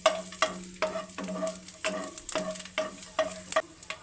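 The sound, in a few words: garlic cloves heating in ghee in a pan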